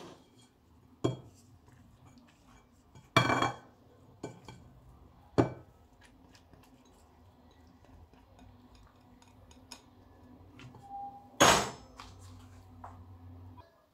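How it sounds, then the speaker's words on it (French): A spoon stirring lentils into rice in a pot, giving sparse metallic clinks and scrapes against the pot at irregular intervals over a quiet kitchen background, with no talk. "Je vais mettre les lentilles. Voilà, je mélange."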